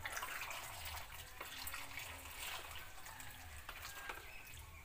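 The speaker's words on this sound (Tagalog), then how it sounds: "lagyan ko ng init na tubig para matanggal din yung lansa" Hot water pours steadily onto freshwater eel in a container, a continuous splashing gush at close range with faint clinks, no speech.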